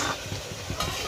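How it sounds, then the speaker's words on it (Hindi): Gram-flour pakoras frying in hot oil for kadhi, a steady close sizzle with soft bubbling and a few light stirring clicks, no talking. "मैं इसको बना दी हूँ और इसको तल रही हूँ"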